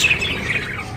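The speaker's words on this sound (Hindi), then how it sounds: "अब सब तोते नीचे आना शुरू हो गए मेरे पास।" Pet parrots give a burst of harsh, close squawks and chirps as they fly down toward a person, a short, loud, continuous chatter lasting about a second.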